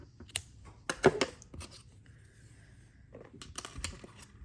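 Scissors snip yarn ends on a small beginner crochet piece, a few quick close crisp cuts scattered among soft handling rustles, with no voices.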